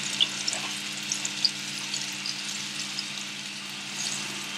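Flour-coated prawns fry in hot oil, giving a steady, close sizzle with scattered small pops and crackles throughout.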